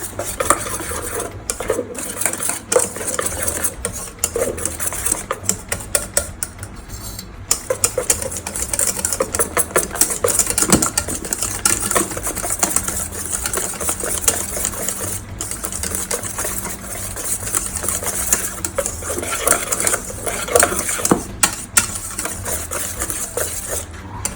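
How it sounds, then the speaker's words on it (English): A utensil beats and stirs sponge cake batter in a bowl, giving a rapid, continuous clatter and scrape against the bowl, close and busy throughout with no talk. "Mix well together."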